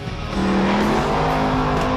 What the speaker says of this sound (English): This is the supercharged Hemi Rumblebee SRT.